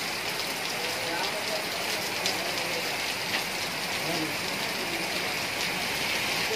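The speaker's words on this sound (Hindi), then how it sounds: "लेकिन बारिश बहुत हो रही है।" Heavy rain pours steadily in Lakhisarai, India, a constant dense hiss of drops with no letup throughout.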